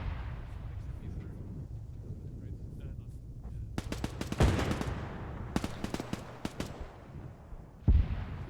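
Gunfire exchanged with a machine gunner in Arma 3: sharp, echoing shots and short automatic bursts crack over a low rumble, with a couple of heavier booms and people talking over the battle.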